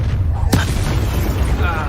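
Incendio fire spell in Hogwarts Legacy bursts with a single sharp crack partway through, riding on a loud, low rumbling roar that carries on to the end.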